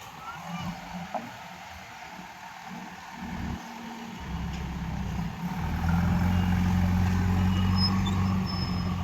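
A JCB backhoe loader drives by, its diesel engine growling faintly at first and then swelling into a louder, steady droning rumble as it draws nearer, with no clear reversing beeps.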